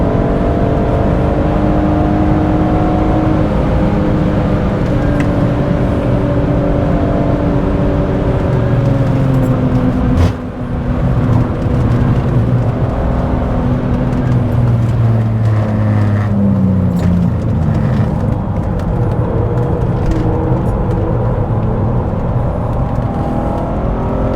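A BMW E46 330i drives fast on a race track, the engine a loud, steady drone heard from inside the car, with pitch rising and falling through gear changes and brief dips.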